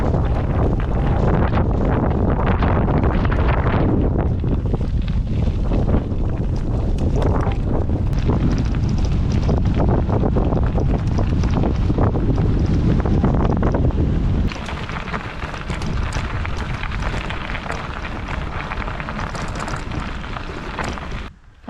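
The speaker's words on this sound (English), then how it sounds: "It's a bit blowy." Strong wind buffeting the microphone outdoors on a blustery bikepacking route near Glenfinnan in the Scottish Highlands, a loud continuous roar that eases slightly toward the end.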